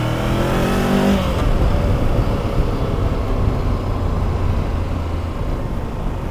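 Voge DSX 525 motorcycle engine (2023 model) riding through city streets, a steady close engine drone with a brief rising rev at the start, then a constant running hum under wind noise.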